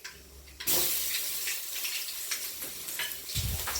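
Ginger garlic paste and fenugreek seeds hitting hot oil for a Tamil fish curry give a sudden loud sizzle that settles into steady frying crackle with stirring scrapes, ending in a low thump.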